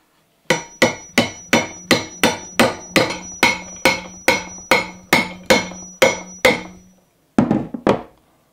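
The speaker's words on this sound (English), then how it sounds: "insert a bolt and hammer it down." Hammer blows drive a bolt down into a bicycle steerer tube to seat a Hope Head Doctor expander, about fifteen sharp metallic strikes in a fast, even rhythm, then a short pause and two final hits, close and loud with no talk.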